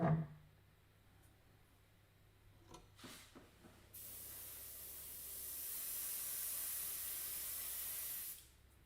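An airbrush hisses out paint in a steady, even spray lasting several seconds and then cuts off, preceded by quiet handling noises and a few soft clicks.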